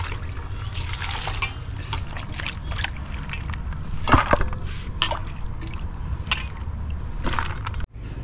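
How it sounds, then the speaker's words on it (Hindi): Clean water trickles and sloshes as tomatoes, onions and chillies are washed in a home kitchen, a soft, continuous watery patter with scattered splashes and clinks, fairly quiet and close. "सबसे पहले इन सबको हम धो लेते हैं साफ पानी से।"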